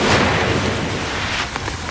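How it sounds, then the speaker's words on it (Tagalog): Heavy, steady rain pours down in Tagbilaran City, Bohol, during Typhoon Basyang, a dense continuous wash of noise close by with a faint low rumble underneath and no voices. "walang tigil ang ulan sa Tagbilaran City sa Bohol dahil sa bagyong Basyang"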